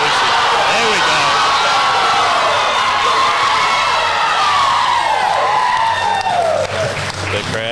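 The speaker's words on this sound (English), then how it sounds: "The crowd goes wild." A crowd erupts at a powerlifting meet as a lifter completes a squat, with loud sustained cheering, whoops and applause filling the hall for several seconds before easing slightly.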